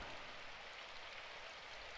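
Steady rain falls in the video game Symphonic Rain, a soft, even hiss of drops that runs unbroken and fairly quiet for the whole stretch, with no voices.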